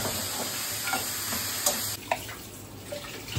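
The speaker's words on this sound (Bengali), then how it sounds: "এখন ফ্রাই হচ্ছে, ফ্রাই হচ্ছে না, এটা একটু রোস্টেড করা হচ্ছে" Makhana (fox nuts) dry-roasting without oil in a pan while being stirred, a continuous close sizzle-like rustle with light scraping and clattering strokes of the spoon against the pan.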